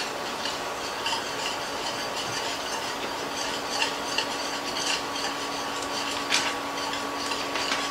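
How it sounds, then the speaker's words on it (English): A utensil scrapes across the bottom of a heavy-bottomed pan on medium-low heat, with a steady soft rasping and stirring texture, close up and fairly quiet, no talking. "Just kind of scrape the bottom."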